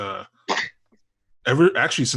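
A single quick sneeze bursts out during a casual conversation among friends, with talking just before it and again right after.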